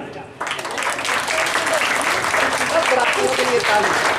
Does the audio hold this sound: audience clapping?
yes